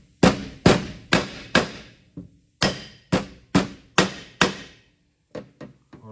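Sharp metallic hammer blows on a small punch against a Briggs and Stratton small engine, nine loud evenly spaced strikes in two runs, followed by a few lighter taps, close and alone without talk.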